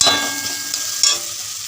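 Okra with gram flour frying in a pan, a continuous close sizzle with a couple of brief scrapes and taps from stirring.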